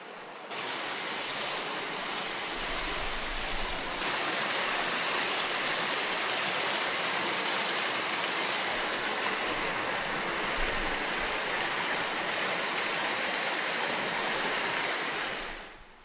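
Yeonsan waterfall in Naeyeonsan in winter pours in a steady, loud broadband rush, constant and close for the whole stretch without any voices.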